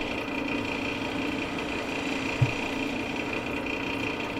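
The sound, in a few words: wood lathe turning olivewood pizza tool handle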